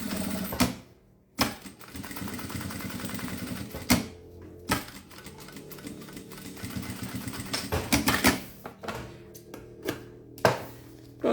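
A sewing machine stitching a toiletry bag: a steady mechanical whirring hum broken by short stops and sharp clicks, close and fairly quiet, with no talking.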